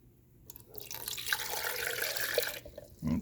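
One cup of water splashes and pours steadily into an old blender jar for about two seconds, then stops, followed by a brief clunk.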